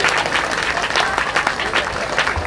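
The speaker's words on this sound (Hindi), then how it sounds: "बजाइए ताली" A temple audience at an evening Vishnu yajna and Bhagavat katha bursts into sustained, dense clapping, loud and continuous throughout with crowd murmur mixed in.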